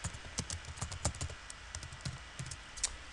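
Rapid typing on a computer keyboard while writing a document in a text editor, a close, steady run of light clicking keystrokes with no voices.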